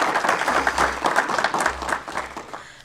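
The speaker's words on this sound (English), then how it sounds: "Please give Ms. Harrington a round of applause." An audience at a school board meeting applauds. Dense, even clapping from many hands holds steady for a few seconds, then tapers off toward the end.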